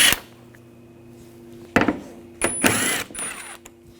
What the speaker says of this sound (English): Take these bolts out. Use a 10mm socket.